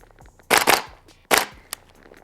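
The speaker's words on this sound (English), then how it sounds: "Failure to stop. I'll do a pelvic shot." HK416D rifle fitted with an MWS conversion kit fires a quick double shot, a short pause, then another sharp report, close and crisp, followed by a faint mechanical click.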